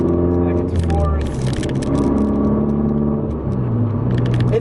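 A manual transmission car engine rumbles steadily up close while the driver double clutches between gears, the hum rising and falling slightly with the shifts.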